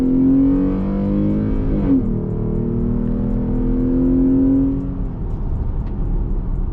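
A lowered Jeep on 22-inch wheels with a K&N cold air intake drives along, its engine droning loud and close. The pitch climbs and falls through gear changes, then the drone eases near the end.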